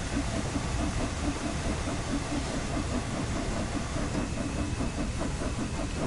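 Steam locomotive cylinder cocks venting in the Train Sim World 6 video game, a steady loud hiss with rhythmic chuffing pulses running throughout, with no talking.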